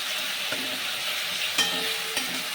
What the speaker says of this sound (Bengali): মশলাটা আগে আমি কষিয়ে নেব